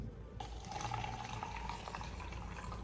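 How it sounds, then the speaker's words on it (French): Tap water pours steadily into a glass, a continuous splashing stream that starts abruptly and runs without pause at moderate loudness. "nous venons de remplir nos différents verres"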